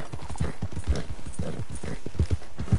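Steady clip-clop of horse hooves in Red Dead Redemption 2, a loud, close, rhythmic trot filling the whole stretch with no talk over it.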